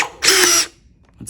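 Gesipa Firebird Pro Gold cordless nutsert gun setting a rivet nut into material: one loud, close whir of the motor lasting under half a second, then quiet, with the start of another faint mechanical sound at the end.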